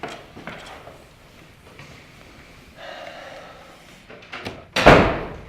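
A door closes as a man leaves a room, with faint shuffling and handling noises before a single loud slam near the end.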